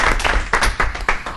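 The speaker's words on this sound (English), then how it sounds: "If we can give them all a round of applause." Audience at a preceptor training panel discussion clapping for the panelists, a short burst of scattered applause with a few distinct louder claps.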